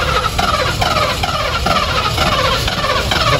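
A Mercedes car engine cranking repeatedly without catching, a steady rhythmic whirring of the starter at close range, loud and continuous throughout.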